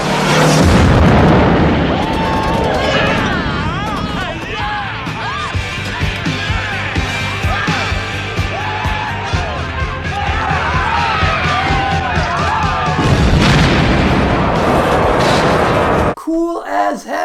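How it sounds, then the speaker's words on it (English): A film scene from Maximum Overdrive where a rocket launcher strikes a big rig bearing a Joker head: a loud booming blast opens it, followed by a dense mix of voices, fire, and clatter, with a second heavy burst near the end. "Shooting a rocket launcher at a big rig with a Joker head on it, and the mouth catching on fire"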